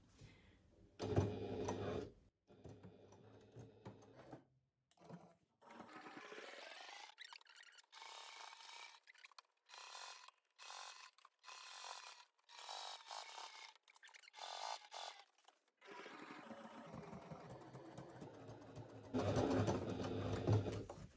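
A sewing machine edge-stitching a fabric pouch, running in short bursts and longer steady whirring runs separated by brief pauses, with a quiet stretch in the middle, close and clear with no talk.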